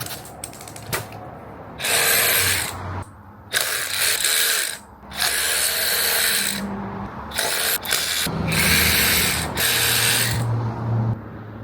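A hand ratchet clicks in long repeated bursts while brake rotors come off a Yamaha XSR900 motorcycle, close and loud, with brief gaps between strokes.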